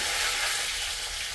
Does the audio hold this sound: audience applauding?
no